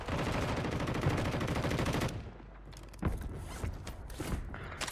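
Gunfire in a first-person shooter video game: a dense, loud burst of rapid shots for about two seconds, then a quieter stretch broken by scattered single cracks and mechanical clatter.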